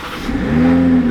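A Toyota Supra engine fires up and climbs into a steady, loud rev, with a strong sustained low hum rising after a brief rough start.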